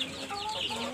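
Chickens cluck softly and briefly, a few short calls close by over a light background.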